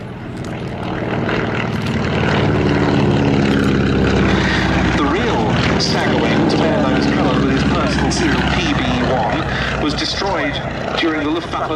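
A Beechcraft Staggerwing propeller biplane flies at the Duxford air show, its radial engine droning steadily and growing louder as it passes, under a commentator's continuous talk.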